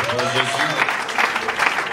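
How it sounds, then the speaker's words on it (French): A church congregation at a thanksgiving worship service applauds and cheers loudly, a dense, steady wash of clapping with shouting voices mixed throughout. "on acclame très fort pour le Seigneur"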